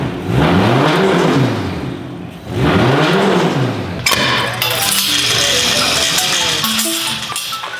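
A Toyota 1J engine revs hard twice, each rising and falling howl lasting about two seconds, loud and close, then settles into an uneven idle while music starts playing over it.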